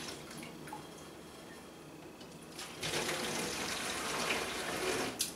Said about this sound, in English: I'm just going to start pouring this back in the jug through the strainer